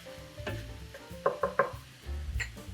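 Onions and peppers softening in a pan give a low steady sizzle, with a few sharp clinks of a utensil stirring against the pan in the middle and near the end. No one talks.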